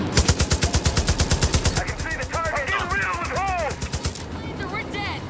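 Gunfire in the Far Cry 5 video game, a rapid regular burst of automatic shots followed by more scattered shooting, mixed with voices and swooping electronic tones, loud and close.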